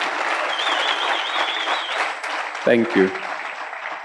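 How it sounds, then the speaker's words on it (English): An audience gives a steady round of applause at a township economy chat event, continuous clapping for about four seconds, with a brief spoken thanks near the end. "Let's give him a big round of applause"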